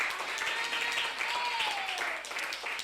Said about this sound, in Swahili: Ongeza tena makofi kwa Bwana Yesu.